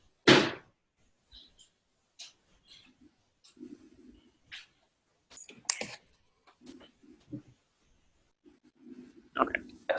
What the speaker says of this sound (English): Let me close my balcony door.